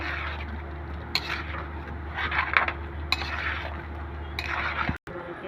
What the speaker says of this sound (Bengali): এখন ভালো করে নেড়ে চেড়ে আমড়াটা মিশিয়ে নিব।